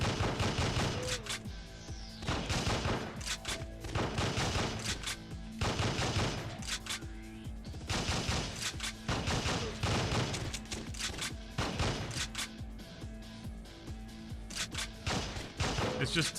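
Rapid, dense gunfire bursts from a cheap Time Crisis-style light gun video game, with volleys of shots firing almost continuously alongside game music and voices.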